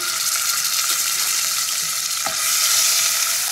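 Onion paste frying in oil with whole spices and dried red chillies for a katla fish masala curry, a steady loud sizzle that swells louder near the end, with no talking.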